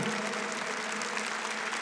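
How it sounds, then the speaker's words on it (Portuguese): A congregation at a Catholic worship gathering applauds, a dense, even wash of many hands clapping, steady and somewhat distant throughout. "Aplauda o Senhor, seu Deus, de todo o seu coração."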